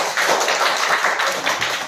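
Classroom children clapping together in a rapid run of many overlapping claps, near and fairly loud, lasting under two seconds.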